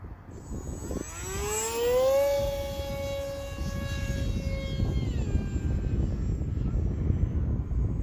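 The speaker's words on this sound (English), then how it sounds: "That little motor on this Aeroscout, it makes that whiny sound, man, when you crank it up" The small electric motor of a Hobbyzone Aeroscout RC plane spins up into a high, whiny tone that climbs in pitch, holds, then steps down, over steady outdoor background noise.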